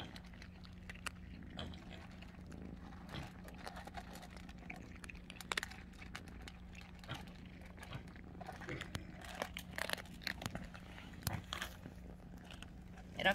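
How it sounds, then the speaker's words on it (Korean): Pet cats chew dry food with small, irregular crunchy bites, faint and close, over a quiet room hum with occasional soft voices in the background. "이렇게 맛있게 아삭아삭 잘 먹는답니다."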